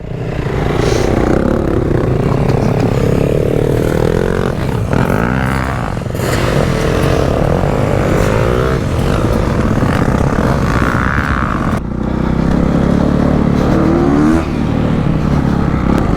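A motorcycle engine revs and strains continuously, rising and falling as the bike rides over rough off-road ground, loud and close with clattering.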